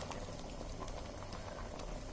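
Chettinad-style kara kuzhambu, a spicy tamarind curry, bubbles at a steady simmer in a pot, a constant soft gurgling with scattered small pops, close but quiet.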